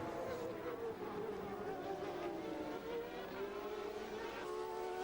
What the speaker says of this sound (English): Mansell constantly shadowed Patrese. But then slipstreamed past him quite easily to lead this Portuguese Grand Prix